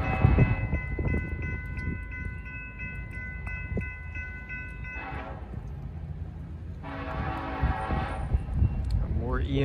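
An EMD diesel locomotive rumbles past with a low engine drone, its horn sounding in long blasts, first steady then again later, fairly close, in Peru, Indiana.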